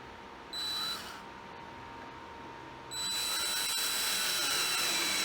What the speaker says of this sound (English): Let's get all these 4 holes tapped.